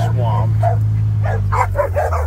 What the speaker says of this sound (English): there's the dogs all waiting for me